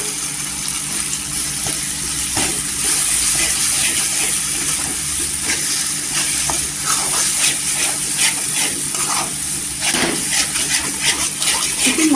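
Water poured into a pan of masala of onion and dried coconut, already fried in oil, for a thin curry, giving a steady loud hiss and sizzle of steam and bubbling that continues without pause.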